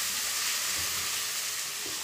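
Chilli paneer masala sautéing in a pan over a gas flame, a steady, fairly loud hiss and crackle of frying with no talk.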